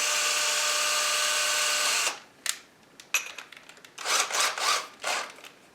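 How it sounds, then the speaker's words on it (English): Power drill bores a small pilot hole into a sliding closet door, a steady high whine for about two seconds, then short bursts and stop-start revving as the trigger is feathered. "we're going to start to drill very slowly."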